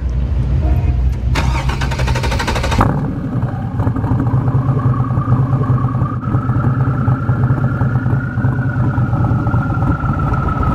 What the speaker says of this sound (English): Dig the turbo whine. It's not as loud as you'd think. It's got a nice rumble to it, and it just sits there and runs.